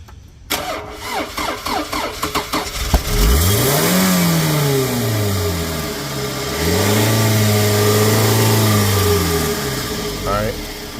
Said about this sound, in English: this part right here is where you start the engine